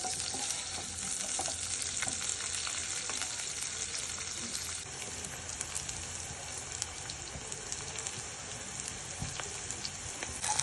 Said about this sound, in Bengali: তেল 1 টেবিল চামচ দিয়ে পেঁয়াজ ও মরিচ দিয়ে পেঁয়াজটা ভালো করে ভেজে নিতে হবে